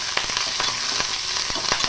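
Onions, curry leaves and green chillies frying in oil with mustard seeds, cumin and dals for semiya upma, a loud continuous sizzle with quick crackles and pops throughout.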